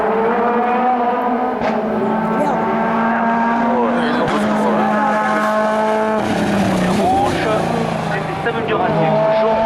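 A race car at the 2018 Hébecrevon national hill climb roars past with a loud, sustained engine note that shifts pitch as it changes gear, under a commentator's voice.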